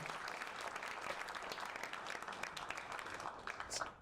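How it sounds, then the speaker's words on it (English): A crowd at a tech-week event applauds a speaker as he is introduced, steady dense clapping from many hands heard at a distance, with a brief swell near the end. "Let's give a round of applause to Mario."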